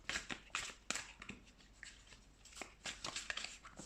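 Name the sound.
shuffling tarot cards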